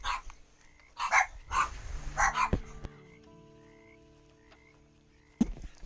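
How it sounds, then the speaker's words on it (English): Dogs bark in the Red Dead Redemption 2 online game, several sharp close barks in a burst followed by a quieter stretch with a faint tonal background and one last bark. "What are you dogs barking at?"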